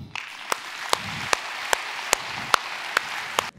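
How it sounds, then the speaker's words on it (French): Audience applause at a national LR France company event in 2018, a steady dense patter of clapping filling the room with a few sharp louder claps standing out at regular intervals, ending abruptly. "On peut tous les applaudir."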